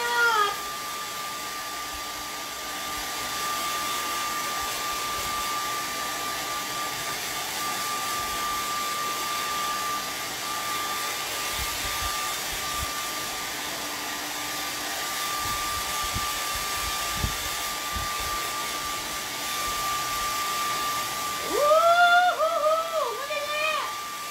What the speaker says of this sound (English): And I'm going to give it the hairdryer.